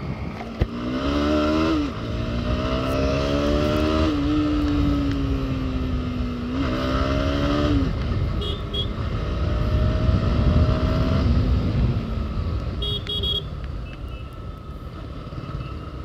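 Bajaj Pulsar NS 160 motorcycle riding and accelerating, its engine note rising through several gear changes and then settling, steady and fairly close with wind and road noise throughout.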